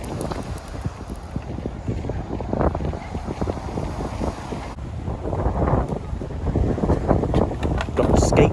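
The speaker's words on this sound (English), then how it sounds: "Still a bit windy, which is a shame, but never mind." Gusty wind blows along the PZ seaside promenade, buffeting the microphone in uneven rumbling bursts that grow stronger toward the end.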